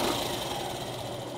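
A Yamaha YTX motorcycle engine runs steadily nearby during an air-fuel mixture adjustment, a continuous mid-pitched hum with little variation across the short stretch.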